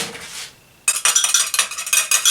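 Ingredients are stirred in a small pan with a metal utensil, giving a brief scrape, a short pause, then a quick run of rapid, close, rhythmic clinks and scrapes against the metal.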